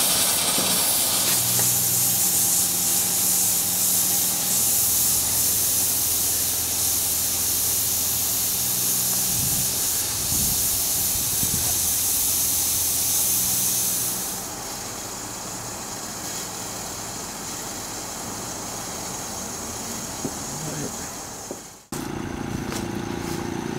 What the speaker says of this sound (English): watch the station until you're just blowing air out